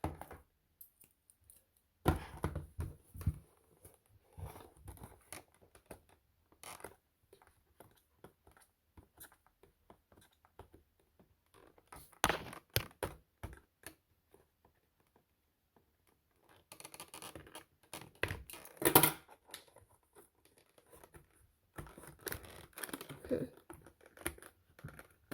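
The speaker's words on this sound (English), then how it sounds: "That's why I got scissors." Scissors snip through packing tape on the box of a new Roku TV remote, close up: sparse sharp clicks and short cutting bursts separated by quiet gaps, with no one talking.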